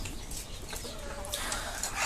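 Hens cluck faintly in a netted coop amid steady background noise, a few soft low calls scattered through the moment.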